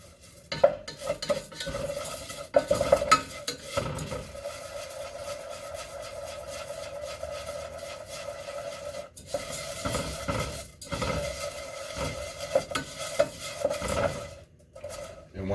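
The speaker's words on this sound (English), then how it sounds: "I'm just going to kind of keep moving it until it melts down." Rice being stirred in a pot over medium-high heat for chicken curry, with repeated scraping and rasping of a utensil against the pan and a faint sizzle, in uneven bursts.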